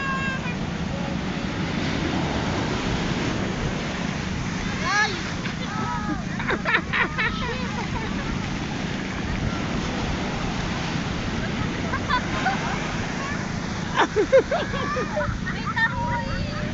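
Rough surf breaks steadily on a beach in Zambales, a broad roaring wash of waves with wind rumble close to the microphone, while people talk intermittently over it.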